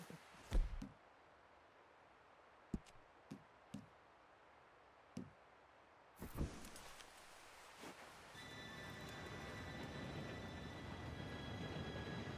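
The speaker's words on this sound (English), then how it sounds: "Train should be here any minute now." In the game Red Dead Redemption 2, a train approaches from a distance. After a few scattered knocks and thumps, a low rumble swells steadily and is joined by faint high squealing as it draws nearer.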